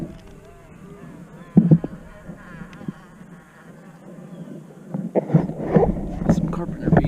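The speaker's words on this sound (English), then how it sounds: "Some carpenter bees in there." Carpenter bees buzz inside a roof under repair, giving a steady close hum with brief louder bumps and scraping near the end. Someone talks over it.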